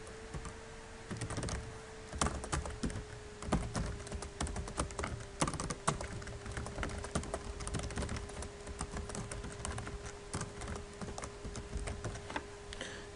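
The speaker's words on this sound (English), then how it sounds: "Type it again." Rapid, irregular keystrokes clatter on a computer keyboard close by while building web pages, with short bursts and brief pauses over a faint steady hum.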